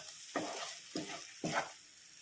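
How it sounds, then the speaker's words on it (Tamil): Bajji chilli stir-fry is stirred in a pan, giving three soft scraping strokes over a steady low sizzle, close and fairly quiet with no talking. "கொத்தமல்லி தலை தூவிக்கலாம் தூவிட்டு எல்லாத்தையும் ஒரு கிளறு கிளறி இறக்கிடலாங்க"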